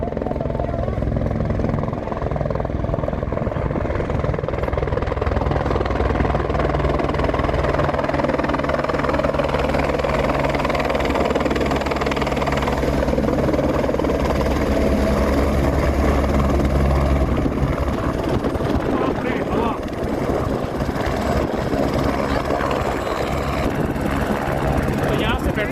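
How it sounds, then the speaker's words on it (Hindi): A helicopter on the Kedarnath route approaches, its rotor thrumming steadily and loudly throughout, a continuous rumbling drone that stays close and constant from start to finish. "सामने से आ रहा है हेलीकॉप्टर"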